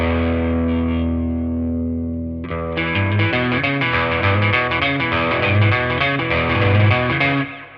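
Fast, revved-up rockabilly electric guitar riff through a Tube Screamer overdrive into a Fender Blues Junior with amp reverb, a sustained ringing chord decaying before a driving run of picked notes, loud and alone.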